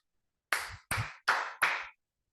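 A teacher's hands clapping to get children's attention, four sharp, evenly spaced claps close up in a quiet room, with silence before and after.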